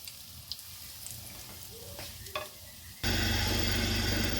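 Stuffed paneer cutlets drop into hot oil in a pan, and after a few quiet seconds with small clinks a loud, steady sizzle of frying starts and holds to the end.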